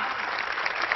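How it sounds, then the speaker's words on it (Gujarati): An audience at a centenary festival claps as students' names and exam percentages are announced, giving a brief, even burst of applause from many hands at moderate volume. "આપણે તાળીઓ પાડવામાં"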